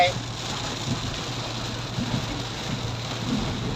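Steady, dense rain hiss fills the clip with a low rumble underneath, continuous and fairly loud, with no voices.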